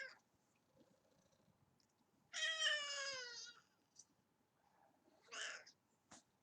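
A cat gives a loud, drawn-out meow at close range, followed a couple of seconds later by a shorter, softer meow and a brief chirp, with quiet room sound between.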